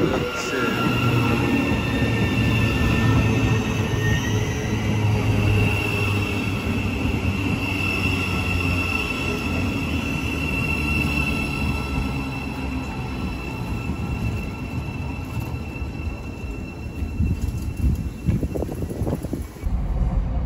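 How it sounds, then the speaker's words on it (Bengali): A Thameslink train pulls into a station platform, its broad low rumble and wheel noise steady and close throughout, with faint squeal tones above and a brief clatter near the end as it slows. "এই যে ট্রেন এসে গেছে।"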